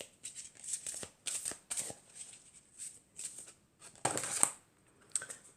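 Cards from an oracle deck shuffled and drawn, giving a series of crisp, close papery riffles and flicks in short bursts with brief pauses, one fuller rustle near the end, no voices.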